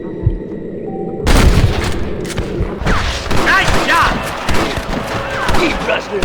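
Gunfire in a Red Dead Redemption shootout: loud booming shots and thuds arrive in bursts, layered with shouting voices and a busy game soundtrack.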